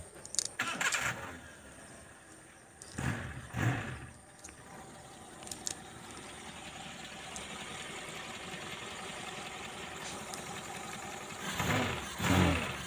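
A car engine runs at a steady idle, with a few louder clanks and revs breaking through the rumble.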